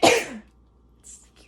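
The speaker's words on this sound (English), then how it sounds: "I'm gonna sneeze." A single close, loud sneeze bursts out at the start, then fades into quiet room tone with a faint breath or sniff near the end.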